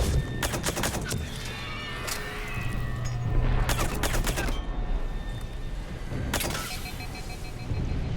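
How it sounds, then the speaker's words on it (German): Bursts of automatic gunfire in Mass Effect 3 come in three clusters of rapid shots, loud and close, separated by brief lulls filled with background game noise. "Also jetzt schieße ich wieder daneben."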